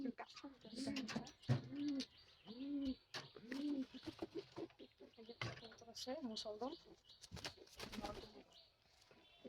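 Pigeons, including a male Musldom pigeon, coo repeatedly in low, rolling calls close by, with scattered chirps and some background voices mixed in.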